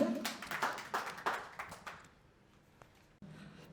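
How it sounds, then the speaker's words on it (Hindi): Audience clapping at a Hindi poetry event, a short burst of hands clapping for about two seconds that quickly dies away, followed by quiet room sound. "एक बार जोरदार तालियां"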